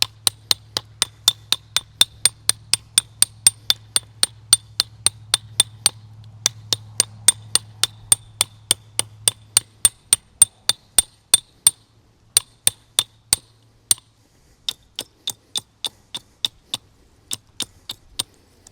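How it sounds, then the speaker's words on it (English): Hammer chipping rust off old parts of a long-idle Kenworth truck with a supercharged two-stroke Detroit V8: a long run of sharp, ringing metallic strikes, steady at first then more spaced, close and loud, with a low hum beneath during the first half. "we're going to chip a bit of that rust off"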